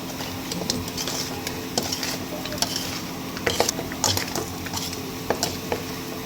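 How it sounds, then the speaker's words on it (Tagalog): Fried pork hock goes into caramelized sugar in a pan for pata estofado, giving a steady sizzle with scattered utensil clinks and stirring scrapes, close and moderately loud, with no talking. "pag caramelize na yung ating asukal, sunod naman natin ilagay yung pinarito nating pata"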